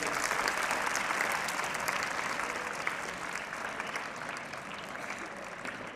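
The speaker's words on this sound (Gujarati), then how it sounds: "અમને એમને તાળીઓથી સ્વાગત કરીશું." A seminar audience at a school in Talaja claps steadily to welcome a guest, with dense, even applause sustained throughout and no voices over it.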